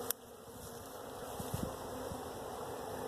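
Honeybees drone in a steady, close buzz around an open hive during an inspection, with a few brief louder passes of individual bees near the microphone.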